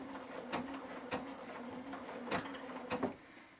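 Sewing machine running a triple stitch for decorative embellishment, a steady low motor hum with a few sharp needle clacks at irregular intervals, close and fairly quiet, no talking.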